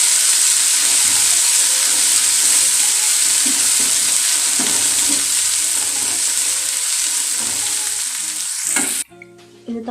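Chillies, onion and coriander sizzling loudly in a tempering pan, a dense continuous frying hiss with occasional stirring scrapes, ending abruptly with a few clinks near the close.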